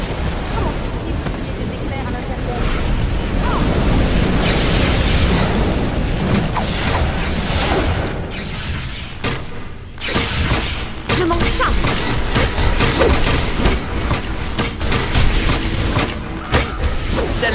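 Cartoon lightning and thunder crash loudly over a sustained rumbling roar, broken by sharp bangs and pops, with a brief lull partway through before the booming resumes.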